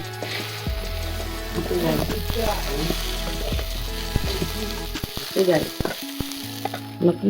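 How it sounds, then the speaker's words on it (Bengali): Onion fritters frying in hot oil, a steady close sizzle running through most of the clip with stirring and utensil clatter, dropping away near the end. "আমাদের এখন পেঁয়াজ পটি ভাজাভাজি চলছে দেখতে পাচ্ছ"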